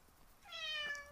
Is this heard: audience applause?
no